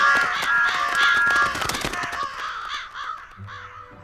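Several cartoon crows caw in a run of harsh, repeated calls, loud and close at first, then thinning out toward the end over a faint low hum.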